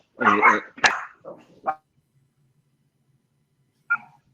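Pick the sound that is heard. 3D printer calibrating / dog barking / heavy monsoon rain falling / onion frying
dog barking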